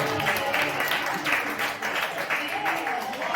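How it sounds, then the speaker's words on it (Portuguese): Church congregation clapping together during a Communion Supper worship service, a steady mass of hand claps filling the room with voices and singing mixed underneath. "Aplauda o Senhor, irmão."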